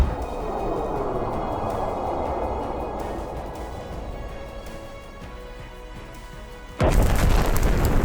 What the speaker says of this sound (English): Right after that, a second missile is launched.